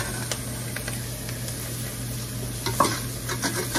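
Gravy for smothered chicken bubbles and sizzles in a pan, a close, steady hiss over a low hum with scattered pops and a brief scrape of stirring near the end.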